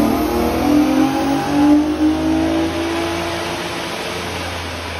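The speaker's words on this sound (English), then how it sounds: "we just finished a dyno run" Holden VE Commodore with the LLT V6, retuned, revving hard on a dyno: a loud, steady engine drone with strong harmonics that swell slightly and then hold, close and continuous with no talk.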